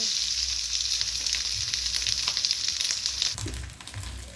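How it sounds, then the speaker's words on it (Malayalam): Grated coconut frying in hot coconut oil with mustard seeds and chilli, a steady close sizzle with brief stirring scrapes, no voices, easing slightly near the end. "ഈ തേങ്ങ ഒന്ന് നന്നായിട്ട് നമുക്ക് വറുത്തെടുക്കണം"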